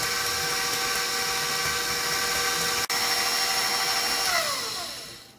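A stand mixer whisking banana bread batter gives a steady motor whine with a tonal hum and a brief clack near the midpoint, then the pitch glides downward as the machine slows toward the end.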